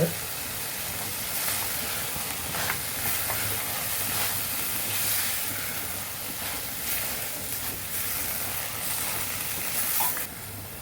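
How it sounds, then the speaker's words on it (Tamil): Spring onions sautéing in a pan for a roasted eggplant dish, a steady loud sizzling hiss with faint stirring scrapes that lasts throughout and has no talk over it. "இந்த சமயத்தில் வெங்காயத்தாள் சேர்த்து அதையும் லேசாக வதக்கிடலாம்"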